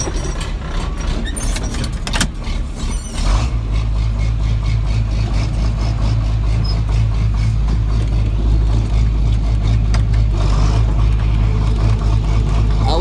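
A John Deere 4440 tractor engine cranks briefly, catches after a few seconds and settles into a loud, steady diesel idle close by, with no talking.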